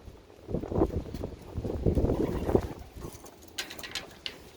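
Young pigeons in a loft give low, soft coos in a few short bursts, fairly close but quiet, with faint rustling and scuffing around them and a brief brighter scrape near the end.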